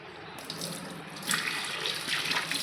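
Water pours steadily into a small glass bowl holding a money plant. A close, continuous splashing stream grows a little fuller partway through, with no voices.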